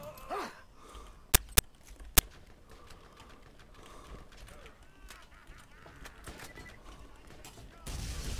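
A weapon fires three sharp, loud reports in close succession in the Borderlands video game. Quieter game ambience and low background sounds continue afterward.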